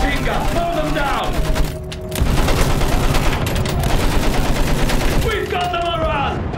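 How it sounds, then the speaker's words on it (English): Rapid machine-gun fire in the Battlefield 1 game, sustained bursts of dense shots with a short pause midway, loud and close, with shouted voices over the shooting at the start and end. "Use that machine gun! Mow them down!"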